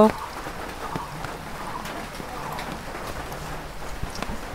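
Rain falls outside a house where a calf is kept, a steady, even hiss of drops on surfaces that runs through the whole stretch at moderate level, with a few slightly sharper drips.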